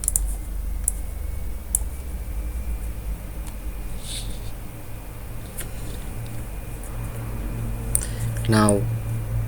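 Keys typed on a computer keyboard at a Linux Mint terminal, a short rapid burst of clicks near the end over steady low background noise, with scattered single taps earlier.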